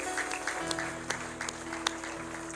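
A church congregation claps together in praise, a dense spread of overlapping hand claps at moderate distance, steady with a few sharper individual claps standing out, no talking over it.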